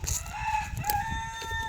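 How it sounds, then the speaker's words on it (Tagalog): A chicken clucks close by in short, repeated calls over a light rustling background. "Kaya na may manok diri."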